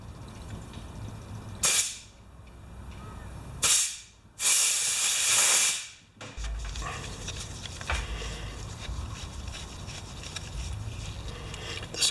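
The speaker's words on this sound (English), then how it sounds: "let's give it a blow of air" Compressed air blasts onto the carburetor of an older John Deere 14SE mower, a Mikuni carb: three sharp hissing bursts, the last one longest, against steady background noise with no talk.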